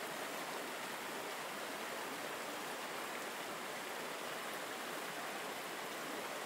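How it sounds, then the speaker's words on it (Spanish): A waterfall pours in a steady, unbroken hiss of rushing water, uniform and enveloping with no pauses or voices, a constant soothing roar. "El sonido continuo de la cascada sigue siendo un compañero constante"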